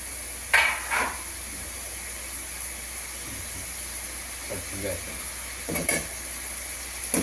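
Ginger and green chilli sizzle in a hot pan with garlic, a steady hiss broken by a few louder bursts and spatula scrapes, with faint speech at moments.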